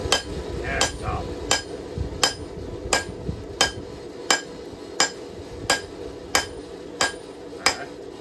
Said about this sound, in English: there'd be some guy named Bubba swinging that hammer.